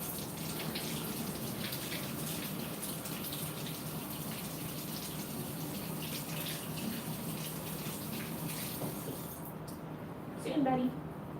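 Tap water runs steadily over an orange being washed at a sink, a continuous close splashing hiss that stops near the end, followed by a brief clatter.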